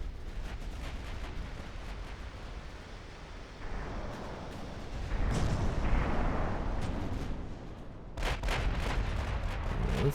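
Naval guns on cruisers firing in Ultimate Admiral Dreadnoughts, with rolling distant booms and rumbling salvos that swell in the middle and sharper cracking shots near the end, over a continuous low battle rumble.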